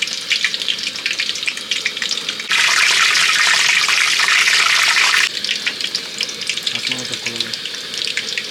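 Chilli bajji fritters fry in hot oil on a gas stove, giving a steady bright sizzle. It grows louder and denser for a few seconds in the middle, then settles back to a lighter crackle.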